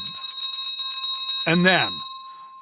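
A bright bell sound effect rings out as a series of quick clear dings with a long ringing tail, while someone speaks over the start of it.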